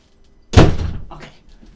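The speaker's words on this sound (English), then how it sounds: "I just realized my door is open." A door swings shut with a single solid thunk, a short loud slam followed by a faint latch click, alone in a quiet room.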